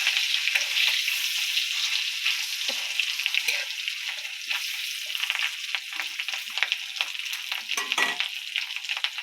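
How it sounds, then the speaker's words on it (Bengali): Fish frying in oil on a homemade outdoor stove at a picnic, a steady bright sizzle with crackling pops and scraping stirs running throughout, fairly close and without voices. "তেলটা কিন্তু লাগতে পারে। হ্যাঁ, মাছটা ভাজি করে নিতে, ঠিক আছে?"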